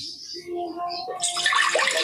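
Water used to wash rice pours off in a splashing, gurgling stream that builds loud in the second half, after a brief moment of quieter sounds.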